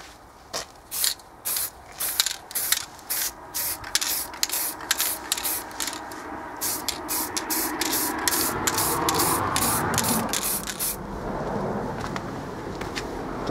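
Rust-Oleum metallic chrome spray paint hisses from the can in a rapid series of short bursts for several seconds, then a longer continuous spray follows, close and moderately loud.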